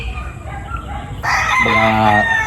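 A rooster crows loudly and close by at a poultry farm in the Philippines. One full cock-a-doodle-doo rises over other hens clucking and a steady barnyard background.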